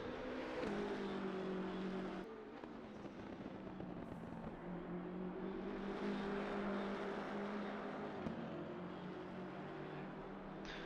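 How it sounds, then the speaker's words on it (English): Engine of an old-spec BMW M6 race car driven at Kyalami in a racing video game: a sustained, steady engine drone that shifts pitch with gear changes around the two- and eight-second marks, with no talk over it. "Chris Downing in the old spec BMW, the M6."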